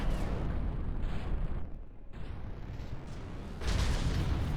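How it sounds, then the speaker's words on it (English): Cram cannons fire aboard the Gimle battleship in the naval combat game From the Depths, a dense, loud, continuous roar of heavy gunfire that dips briefly midway, then swells again. "it takes some time for the cram cannons to actually fire, 7 seconds to be exact"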